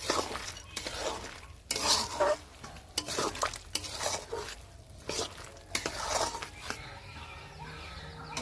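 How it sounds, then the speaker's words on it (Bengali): Fried boondi is stirred into hot sugar syrup in a pan, giving repeated close scrapes and clatters of a spoon on the metal over a gentle sizzle, busy and uneven throughout. "এবারে আমি বুঁদেটা এই চিনি রসের মধ্যে দিয়ে দেবো"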